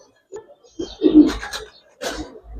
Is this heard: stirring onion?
no